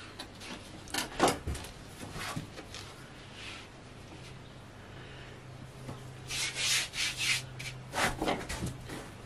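Knife cutting homemade pasta dough on a board, quiet scraping and rubbing strokes in scattered bursts with a busier cluster near the end.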